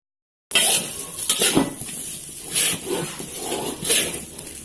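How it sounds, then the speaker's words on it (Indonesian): A spoon scrapes and clinks against a pot while sticky sago dough for Bugis sinole is stirred hard, several close, uneven strokes with sticky smacks and no voices. "Ini mungkin mengaduknya agak keras, soalnya sagunya lengket-lengket gitu."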